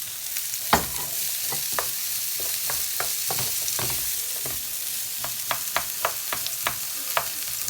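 Bell peppers in three colours sizzle steadily in a frying pan, with a continuous hiss broken by a dozen or so sharp clicks and scrapes of a utensil stirring them, close and moderately loud, with no talking.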